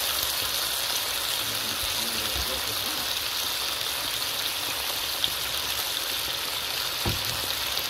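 Steady, loud sizzling hiss of water poured into a hot pot of conch, holding constant throughout, with a couple of faint clinks underneath.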